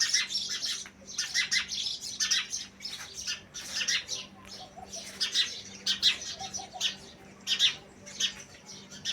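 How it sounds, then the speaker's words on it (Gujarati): Sparrows chirp busily around a clay water bowl set out for birds in summer, with many quick bright tweets overlapping in uneven bursts, fairly close and lively, with no talking. "જો ચકલા અત્યારે પાણી પી નાખશે।"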